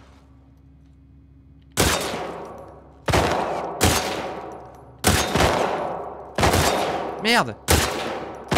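Gunfire from a weapon in The Last of Us Part II, a game duel, with six loud sharp shots spaced about a second apart, each ringing out with a decaying tail. A brief spoken exclamation comes near the end.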